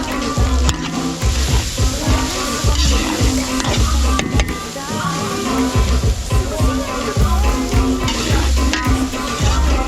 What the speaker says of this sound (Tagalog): Ginataang laing. Bawang sibuyas. Ayun, luya, mga Benny